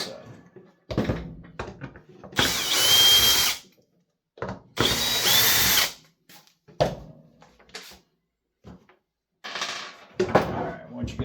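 Power drill running in two loud bursts of about a second each, then two shorter bursts, backing out the bolts on an Echo leaf blower cover, with quieter handling clatter and faint talk in the gaps.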